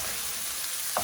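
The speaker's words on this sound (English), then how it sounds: "what we're going to do is now saute the onions" Onions sauteing in a pan over a medium-high flame give a steady, close, dense sizzle throughout, with a brief stir or clink near the end.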